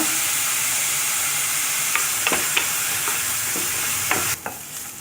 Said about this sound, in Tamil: வெட்டி வச்சுருக்க வெங்காயத்தையும் போட்டு நல்லா வதக்கிக்கோங்க